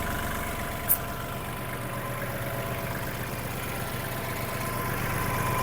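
A Kubota KL-230 mini tractor engine idles steadily nearby, a low even chugging hum with one brief click early on.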